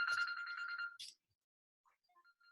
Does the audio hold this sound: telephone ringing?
yes